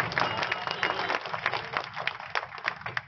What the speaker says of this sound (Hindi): अपने लिए भी एक बार ताली बजाओ